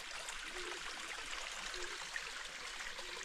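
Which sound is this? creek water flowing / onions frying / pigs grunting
creek water flowing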